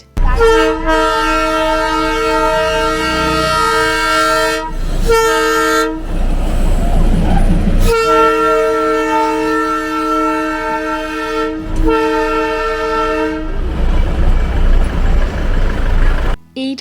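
The Darjeeling toy train on a hill road sounds a loud, close horn in several long blasts separated by short gaps, with rail noise and engine rumble underneath.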